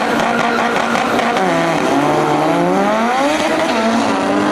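A Honda Type R engine revs hard at high RPM, a loud screaming wail that rises and falls in pitch through several sweeps, close and sustained with no talking.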